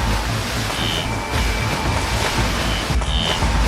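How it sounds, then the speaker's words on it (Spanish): A herd of animals crossing a river sends up a loud, continuous rush of splashing and churning water, a dense broadband wash with no pauses. "el sonido del agua salpicando"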